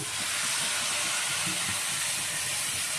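Tomatoes hit a hot pan for pav bhaji alongside fried capsicum, giving off a steady, fairly loud hiss and sizzle that carries on unbroken for a few seconds.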